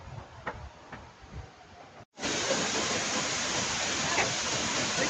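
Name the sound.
waterfall in Jiuzhai Valley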